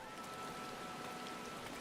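Steady rain falling over a city in the Final Fantasy XIV game, a constant, even hiss of close drops without breaks or other sounds.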